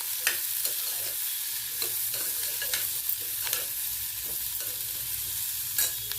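Vegetables for beetroot pulao sizzle in a hot pan while a utensil stirs and scrapes through them in irregular strokes, close and steady.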